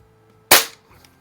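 A single sharp, loud crack of a Crosman 766 air gun firing nearby, a quick burst that fades within a few tenths of a second, with no talk.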